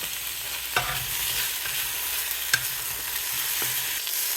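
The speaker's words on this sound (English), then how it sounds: "It can take a whip about, I think they said like a couple minutes to stir fry here" Stir-frying in a hot pan produces a steady loud sizzle broken by a few sharp scrapes and knocks of the utensil, close up with no voices.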